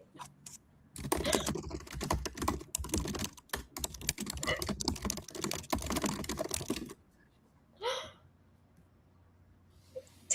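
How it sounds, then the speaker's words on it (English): Fast, frantic typing on a computer keyboard, a dense run of close clicks for about six seconds, then quiet with a brief breathy sound and a faint tap. "Us furiously typing on our computer"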